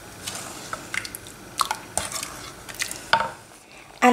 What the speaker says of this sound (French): j'ai continué à cuire mon riz au lait en le mélangeant régulièrement